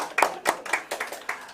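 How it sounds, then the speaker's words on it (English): Scattered hand clapping from an audience at a political national pledge event with presidential candidates, a handful of distinct claps in an uneven rhythm at moderate volume, with no talking. "let's give convener Engineer Kenneth Bay a round of applause once again"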